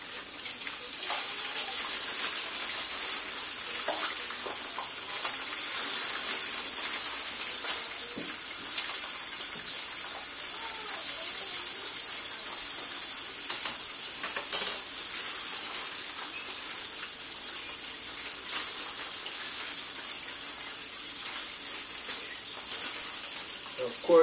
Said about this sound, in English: dropping them into a pot of fat and letting them fry up